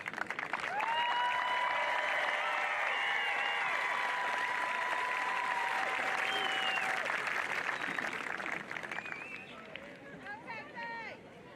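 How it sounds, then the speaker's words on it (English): Graduation ceremony crowd at Sussex Central High School applauding its graduates, a sustained dense wash of clapping with cheers and whoops rising over it, fading toward the end. "One last applause that I'm asking for our Golden Knights."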